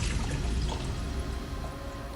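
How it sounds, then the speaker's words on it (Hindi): Water pours steadily into a cooking pot while preparing Yemeni lamb mandi, a continuous close splashing rush lasting about two seconds with no talk. "तो पानी हम इसमें यहाँ पे ऐड कर रहे हैं फिलहाल"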